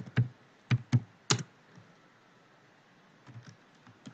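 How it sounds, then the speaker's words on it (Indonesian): A few quick keystrokes on a computer keyboard, a cluster of sharp clicks followed by a pause and then softer, lighter taps, close up in a quiet room. "diketik"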